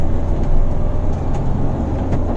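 Diesel Mahindra Thar accelerating on an open road while shifting gears, a loud, steady low engine drone with road rumble and faint brief breaks as gears change, heard from inside the cabin without talk.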